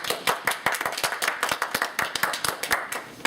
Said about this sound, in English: Let's give Mr. Bates a round of applause.